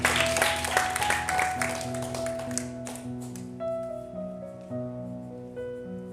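Children clap for young girls stepping up to sing at a Christian children's programme; a burst of scattered clapping fades out over the first few seconds while sustained keyboard-like music plays throughout.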